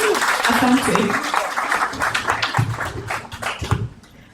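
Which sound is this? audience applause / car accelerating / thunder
audience applause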